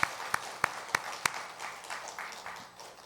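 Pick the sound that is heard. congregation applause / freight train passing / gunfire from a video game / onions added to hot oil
congregation applause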